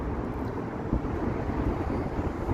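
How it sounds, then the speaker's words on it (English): Breezy outdoor wind buffets a phone microphone down by the Toronto waterfront on a spring evening, a steady low rumble of gusts with no speech. "it might sound a bit windy now, because it is a bit breezy down here"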